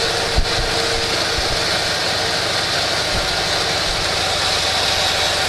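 A motorcycle engine on an M-72 runs steadily up close after carburetor adjustment, a constant buzzing drone with a few small knocks near the start and no clear rise in pitch.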